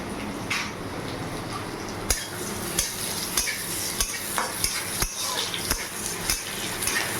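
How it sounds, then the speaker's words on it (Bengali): Onions fry in hot oil in a pan with a continuous sizzle, while sharp utensil clacks and scrapes against the pan repeat every half second or so, close and fairly loud. "হালকা পরিমাণে একদম পেঁয়াজ দিয়ে দিলাম।"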